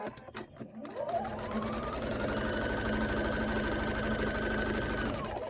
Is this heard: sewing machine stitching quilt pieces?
yes